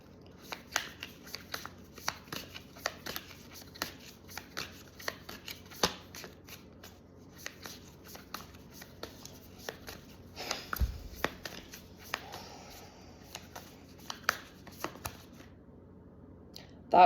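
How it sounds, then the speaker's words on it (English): Tarot cards shuffled by hand during a reading, a long run of soft, quick riffling and flicking noises at close range, steady and fairly quiet, with a brief low thump partway through. "going to see if any other cards want to come out before I close this reading"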